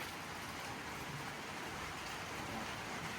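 Steady rain pours down in a dense, even hiss of drops hitting surfaces, constant and enveloping with no pauses or voices.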